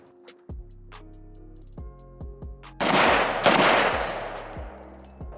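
A PSA Spiker AK-type rifle, a Type 56-style build, fires its first magazine outdoors: sharp, loud shots spaced about a second apart, each with a long ringing decay, and the pace quickens toward the end.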